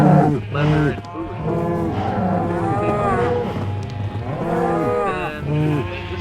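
Cows mooing in the Minecraft video game, several low drawn-out moos following one another and overlapping at steady loudness through the whole stretch, with no talking.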